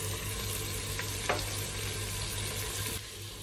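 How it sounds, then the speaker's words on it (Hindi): Finely chopped medium onions go into a pan with mutton for mutton kunna, a quiet, even sizzle with a brief scrape of stirring partway through and a low hum underneath. "ये मैं प्याज डाल रही हूँ इसके अंदर"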